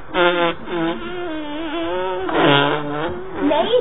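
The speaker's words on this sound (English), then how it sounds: "Stop farting." A loud, drawn-out buzzing fart with a wavering tone lasts several seconds and swells again toward the end, heard alone without talk.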